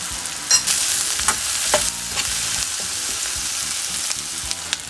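Ground turmeric, coriander, garam masala and sweet chili powder sizzle in a hot pan for butter chicken gravy, with a steady frying hiss broken by repeated scraping stirs of a spoon, close and fairly loud.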